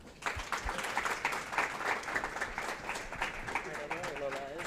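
Conference audience applauding the speakers at a women's leadership event, a steady wash of clapping from a crowd that keeps going for several seconds, with some voices mixed in.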